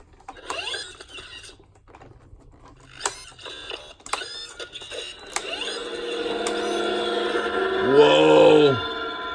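A Marvel Power Gauntlet toy gives off electronic sound effects as its gems activate: mechanical clicks and whirring sweeps build into a louder, sustained hum with warbling tones near the end.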